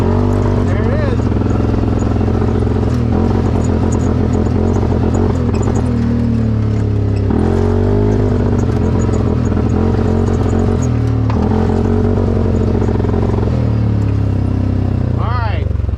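A 500 Trail ATV engine runs rough, loud and close, its uneven idle surging and sagging while voices talk over it.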